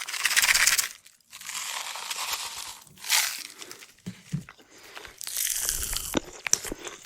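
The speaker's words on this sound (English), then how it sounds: "If you like the sounds of Pop Rocks, I use these all the time" Pop Rocks popping candy crackling in close-up ASMR style, bursts of dense crisp fizzing and crunchy crackle that start and stop over several seconds, loud and near with no talking.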